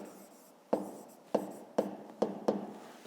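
A pen scratches across paper at close range in a handful of short strokes, each starting with a sharp tap and fading into a soft rasp, during a math exercise.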